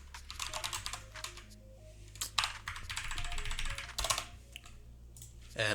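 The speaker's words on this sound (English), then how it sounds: "I'm just clicking F2 to rename that item there" Computer keyboard keys clack in quick irregular bursts of close, crisp typing with short pauses between, including a press of the F2 key while renaming items.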